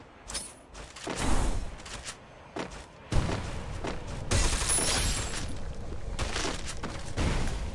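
Video game gunfire in Free Fire: repeated bursts of shots and booms, some loud and close, others clipped, separated by short gaps of quiet.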